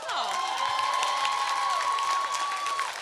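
Audience at a Q&A with Will Friedle and Christy Carlson Romano breaks into steady applause and cheering, a dense crowd wash with a whistle-like tone running through it, sustained for about three seconds.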